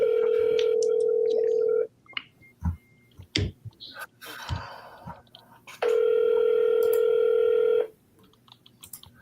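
Telephone call audio: two long steady ringback tones separated by a gap filled with small clicks and handling noises, the line sounding close and clear.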